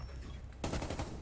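Rapid hip-fire gunshots from an operator's weapon in the video game Rainbow Six Siege, a loud burst of several close shots starting abruptly after a quiet moment.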